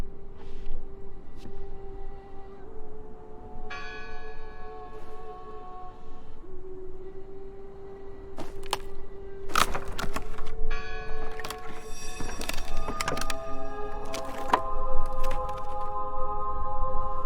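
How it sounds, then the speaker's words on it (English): Church bell tolling in the horror video game Draugen, several loud resonant strikes with long ringing decay layered over a steady low drone, growing denser toward the end. "I heard the bell."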